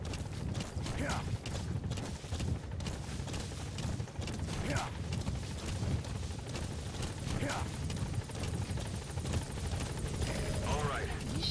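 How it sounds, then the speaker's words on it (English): A support helicopter arrives in Metal Gear Solid V, its rotor chop and engine drone loud and constant, with mechanical creaks and clanks layered over the steady roar. "Support helicopter has arrived"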